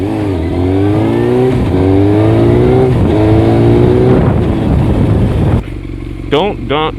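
A 600cc sport motorcycle ridden using only the rear brake, its engine note sliding down through several revving descents under loud wind, then a brief quieter idle with a couple of short throttle blips at the end.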